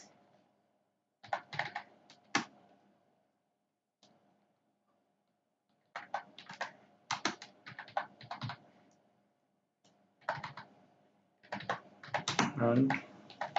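Computer keyboard typing in short bursts of quick clicks while code is entered, separated by pauses, with talk during much of it.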